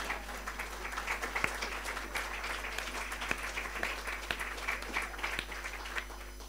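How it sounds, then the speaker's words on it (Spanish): Audience applause during a lecture on the life and work of William Butler Yeats, a steady, moderately distant patter of many hands clapping that runs evenly throughout over a low constant hum. "Puedes aplaudir si quieres."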